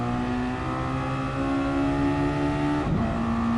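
Race car engine in a racing video game holding a steady high rev at a practice start with handbrake on, a loud continuous drone that dips and surges briefly near the end as the car launches.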